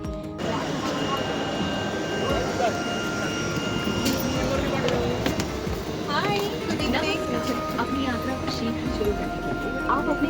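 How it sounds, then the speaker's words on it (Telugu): Jet aircraft engines roar steadily while passengers board a flight, a broad continuous rumble and whine with clattering footsteps and frequent talking over it. "ఫ్లైట్ అయితే ఎక్కేస్తున్నాము"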